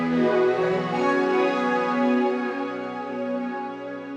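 A thick, shimmering guitar tone through a Strymon Cloudburst pedal's pitch-shifting effect, with layered harmonic pitches, sustains and slowly wavers, a dense processed effect ringing out alone.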